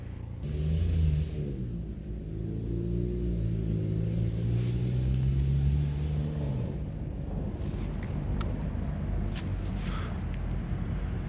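A car pulls away outdoors, its engine rumbling steadily with a rising, then falling drone as it moves off, fairly loud and close at first and continuing as a broad roar, with no talk over it.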